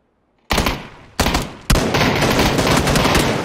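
Video game gunfire comes in three abrupt, loud onsets, the last settling into a sustained rapid automatic burst that runs to the end, with no talk.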